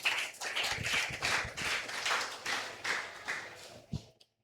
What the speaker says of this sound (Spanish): Dele una ofrenda de palmas al Rey de Reyes y Señor de Señores.